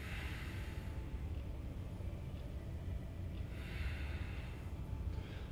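Slow, audible breaths during a power flow yoga session rise and fall in two long airy swells over a low rumbling background, close to the microphone, with no speech.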